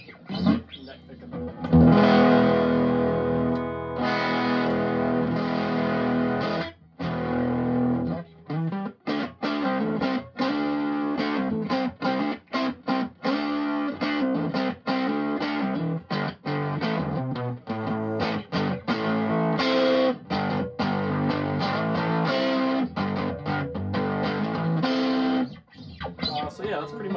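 An electric guitar on its neck pickup plays through a homemade 5F2A Princeton amp, with warm, sustained chords and single notes that ring steadily and are broken by a few short pauses.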